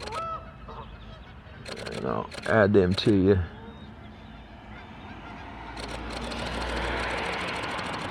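Geese honk at a pond beside a highway, a loud close cluster of several nasal honks in the middle with faint road noise behind, while someone talks briefly near the start.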